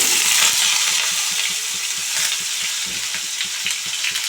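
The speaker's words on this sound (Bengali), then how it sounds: "আমি এর মধ্যে ফুলকপি আর আলু দুটো একসঙ্গে ছেড়ে দেব।" Cauliflower and potato sizzle and fry together in a hot pan, a steady dense crackle with faint stirring scrapes throughout, close and alone with no talk.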